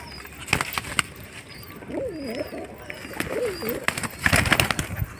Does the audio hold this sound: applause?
no